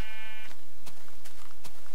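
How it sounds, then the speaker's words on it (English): A Minecraft sheep bleats once, a loud wavering tone at the start, followed by sharp short clicks and taps from the game, with no talking. "Lots and lots of sheep and cows."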